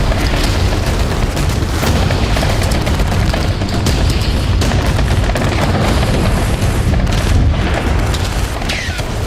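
Attack on Israeli troops near a Hamas tunnel, a sustained dense barrage of loud booms and overlapping gunfire, rough and continuous throughout.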